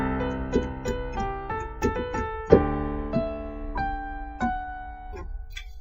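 A keyboard plays a gentle melody alone, quick ornamental grace notes flicking into several of the main notes, at a moderate, unhurried pace.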